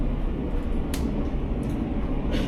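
Steady low rumble of an Alaska Railroad passenger train rolling along the rails, with a few brief high clicks and squeals over the continuous wheel noise; no one speaks.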